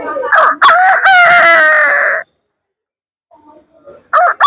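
A person imitates a rooster crowing, giving one loud, close, drawn-out cock-a-doodle-doo. A brief pause follows, then the start of a second crow.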